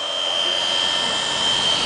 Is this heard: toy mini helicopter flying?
yes